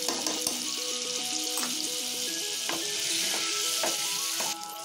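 Butter melting into hot oil in a pan over a medium-low flame, giving a steady, close, continuous sizzle that holds at an even level throughout.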